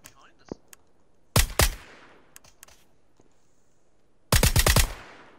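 Bursts of gunfire in PUBG, a few faint distant single shots, then a loud double shot and a dense rapid volley near the end, separated by near silence.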